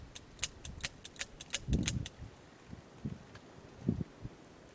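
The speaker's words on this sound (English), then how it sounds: "Dry fire double action" Colt Python 4-inch .357 Magnum revolver dry-fired double action: a series of about eight crisp metallic clicks in quick succession, followed by softer mechanical handling thumps, close and fairly quiet with no talk.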